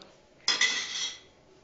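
A plate and cutlery handled in a home kitchen while rice is being served, giving a short burst of clinking and scraping with a second knock right after, close and fairly quiet, with no talk over it.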